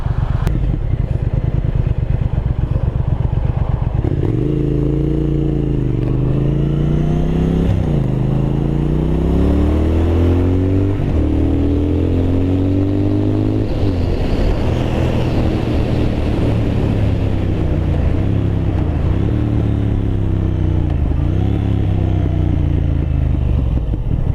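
A 2023 Triumph Thruxton RS Chrome Edition cafe racer in road mode accelerates hard, its engine note climbing in pitch through several gear changes with brief dips between them, loud and close with a steady rushing backdrop.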